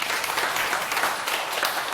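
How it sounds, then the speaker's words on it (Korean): An audience at a Buddhist monk's lecture on meditation claps in a dense, even burst of applause that fills the room for the whole stretch without letting up. "박수 한번 치세요."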